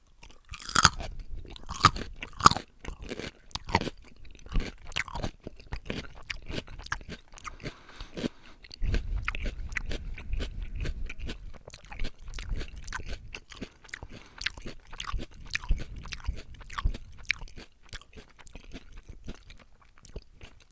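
Close, open-mouthed chewing of crunchy raw vegetables, with sharp crisp bites and wet crunching in a steady, irregular rhythm throughout, heard alone without talk.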